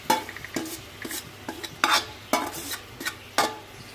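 Chicken pieces for homemade shawarma are stirred in a pan of hot oil over medium heat, with a spatula scraping in regular strokes about every half second above a soft sizzle and no voices.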